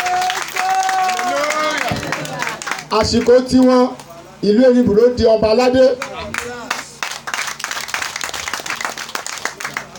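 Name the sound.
audience clapping for the king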